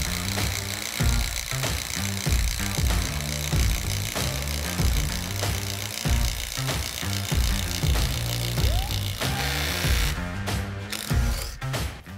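A Makita 40V impact driver hammers in rapid, steady bursts of impacting, loud and close, repeating for several seconds with a sharper rattle near the end and no talk.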